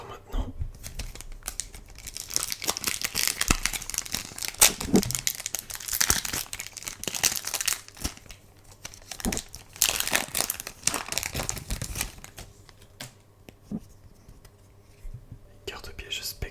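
Crinkling and tearing of a Yu-Gi-Oh booster pack's foil wrapper, close and intimate, with repeated bursts of crackle over about twelve seconds, then quieter handling; soft whispered speech runs alongside.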